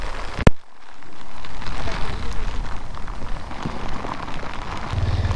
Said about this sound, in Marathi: खूप जोरात पाऊस आलाय.